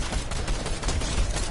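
Rapid automatic gunfire in the Fortnite video game, a dense, continuous burst of shots that stays loud and steady throughout a brief stretch, with no talking.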